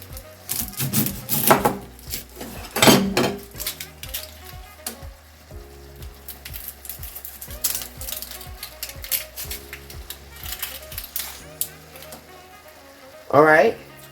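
Sliced onion cooks in a pot of venison stew, bursts of sizzling and stirring at the start and end with a rapid clicking pattern in between, and a voice talking over parts of it.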